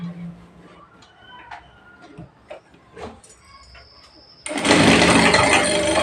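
Near the end, a sewing machine bursts into loud, steady stitching along a blouse seam, after several seconds of quiet handling clicks and rustles.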